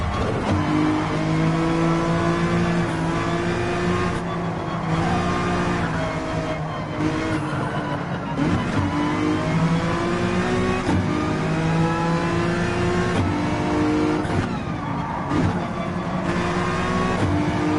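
Race cars in a racing video game rev and accelerate around the Willow Springs track, a steady, loud engine drone with rising and falling pitch sweeps and several overlapping cars, continuous throughout without talk.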